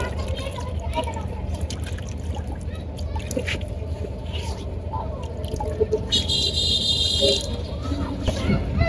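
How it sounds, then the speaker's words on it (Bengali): A stone grinding slab and pestle are rinsed with water, with trickling and splashing close by under a steady background, and a person talks over part of it. "সবকিছু ছেঁচে নেওয়ার জন্য এখন পাটা ও কুতাটা খুব সুন্দর করে ধুয়ে নিব"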